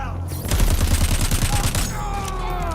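Rapid automatic gunfire from the video game Crackdown 3, loud and close, running as a steady fast rattle of shots for about a second and a half before easing into lingering game noise.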